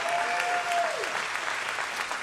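Steady, dense applause from a large audience at a political event in Aston, Pennsylvania, a continuous wash of clapping throughout, with a brief whistle-like tone fading near the start.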